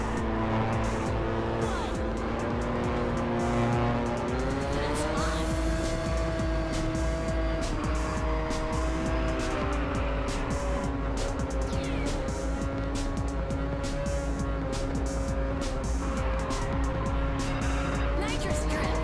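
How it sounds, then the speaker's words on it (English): A car drifts under nitrous boost in the racing game Ridge Racer 7, its steady engine whine rising and holding in pitch over a continuous loud tire and engine roar throughout. "Nitrous drift."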